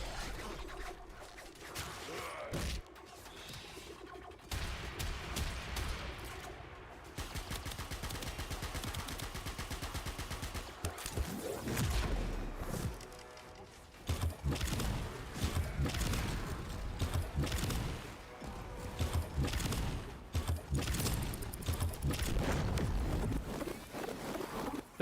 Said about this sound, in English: Pretty fireworks.